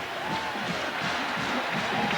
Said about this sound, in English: this crowd just keeps getting louder